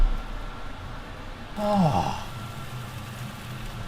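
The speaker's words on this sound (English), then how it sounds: "that is the sound of my extractor fan because I just set the smoke alarm off" A kitchen extractor fan runs with a steady, broad whooshing hum, heard while cooking tandoori chicken flatbreads over high heat. A voice briefly exclaims partway through.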